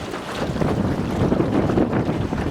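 Strong wind buffeting a microphone on a lake during a fishing trip, a steady loud broadband roar with gusty swells and no voices.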